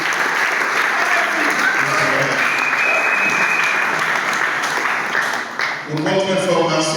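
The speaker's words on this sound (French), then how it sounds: "Je voudrais solliciter de votre part des applaudissements frénétiques pour ceux qui ont contribué" A university closing-ceremony audience breaks into loud, sustained applause for the contributors, a dense roar of clapping with faint cheering mixed in, and a short lull near the end before it swells again.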